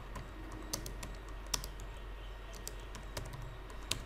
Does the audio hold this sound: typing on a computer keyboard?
yes